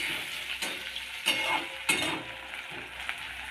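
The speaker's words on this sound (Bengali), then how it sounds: "পেঁয়াজ কুচি দিয়ে দিলাম" Chopped onions frying in a pan, a bright continuous sizzle with a few louder stirring scrapes and clinks of a utensil against the pan, close and without speech.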